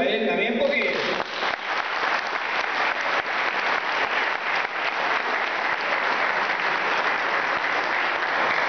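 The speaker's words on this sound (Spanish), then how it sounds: "quiero un aplauso para él también" A crowd breaks into sustained, dense applause that carries on loudly throughout, with a voice speaking briefly over the start.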